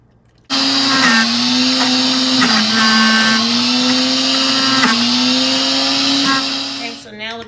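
Blender grinding soaked seeds for a raw vegan tuna salad, starting abruptly and running as a loud, steady high whir for about six seconds, then cutting off.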